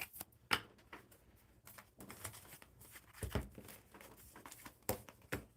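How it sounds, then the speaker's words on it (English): Playing cards being shuffled on a tabletop during a casual live coffee-club card reading: quiet, irregular riffling and flicking bursts close by, with brief sharper snaps scattered over several seconds. "I'm just putting the cards back in the deck. Miscellaneous spots. And then shuffling them."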